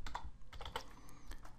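Quiet, quick clicks of keys on a computer keyboard come in an uneven patter, close up and with no talking.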